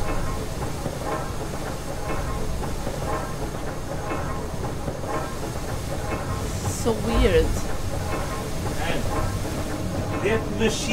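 A loud, steady mechanical roar with hissing from a steam machine in the video game Amnesia: The Dark Descent runs throughout, while a voice speaks briefly over it.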